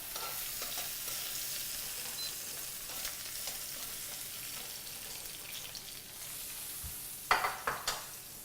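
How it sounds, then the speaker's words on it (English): Lamb searing in a hot pan, turned to brown on all sides, giving a steady low sizzle with faint crackles and a few sharp clinks near the end. "And then we'll seal all sides of the lamb"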